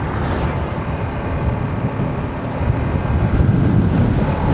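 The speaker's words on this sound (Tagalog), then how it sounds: "Lamig ng simoy ng hangin. Ang lakas pati ng hangin." Strong, cold wind sweeps across a highland campsite above Tagaytay and Calamba, a loud, steady buffeting rush over the microphone that builds slightly toward the end, with no talk.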